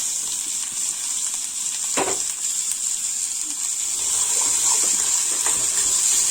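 Ginger, garlic and onion fry in a pan with ridge gourd peels and a pinch of salt, giving a steady hissing sizzle with a couple of soft clinks and no speech.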